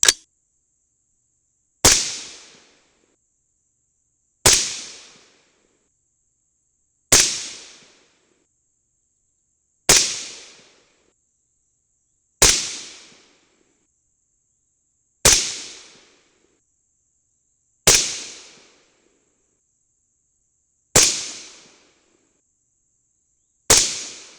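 Ten sharp rifle shots of .223 ammunition loaded with an extra heavy crimp ring out at a steady pace about 2.5 seconds apart, each a loud crack with a short decaying tail, with a faint steady tone underneath.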